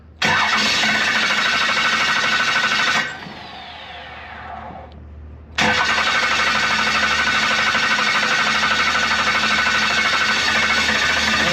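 A worn-out first-generation Cummins diesel cranks and catches on its first start in years, then roars into a loud, steady run with turbo whine, alone and close by.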